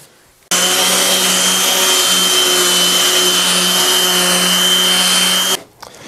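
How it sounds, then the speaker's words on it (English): A power sander runs continuously on wooden deck rails with 180-grit paper, giving a steady, close whirring drone for about five seconds before it stops. "I'm going to sand them now with 180"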